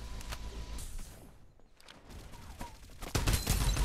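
Gunfire in Farlight 84 sounds as scattered sharp shots and bursts, quieter in the middle and then swelling into a louder close volley at the end, with no talking.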